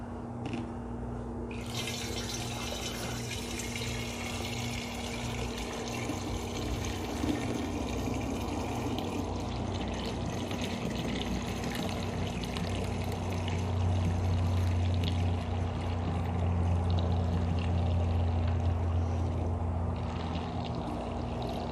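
Peach mead must pours steadily into a fermenter, a continuous splashing, gurgling stream that runs for about twenty seconds over a constant low hum, with no speech.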